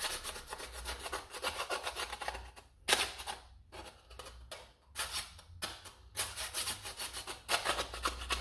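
A hand file rasping against a plastic Nerf Rival blaster part, repeated short scraping strokes in quick rhythm with a few brief pauses, close and fairly quiet, no talking.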